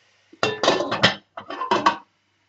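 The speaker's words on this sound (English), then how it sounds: "So if we pop the lid on a skew" A metal lid is set askew on a simmering saucepan of tomato soup, making a short run of clinks and clatters: a few quick knocks, a pause, then a couple more close rattles.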